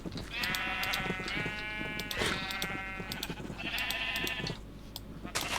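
Repeated bleats from Minecraft sheep, three or four wavering calls in close succession over a steady low hum, fairly loud and near.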